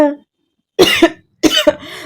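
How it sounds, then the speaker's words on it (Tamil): An elderly man gives a few harsh, close coughs, separated by short pauses, with a wheezy, throaty quality. "திடீரென இருமல் வர நெஞ்சை பிடித்தபடி இருமிக் கொண்டார்"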